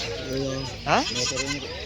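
A goat bleats once, loud and close, with a rising wavering cry at an animal market, while people talk around it.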